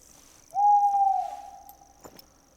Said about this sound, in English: Birds are loud now.